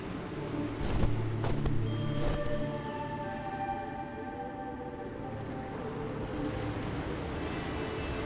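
Water waves in the video game Night of the Rabbit, set in a gloomy winter landscape. A continuous soft wash of surf and wind runs under faint tonal music with a few thumps early on.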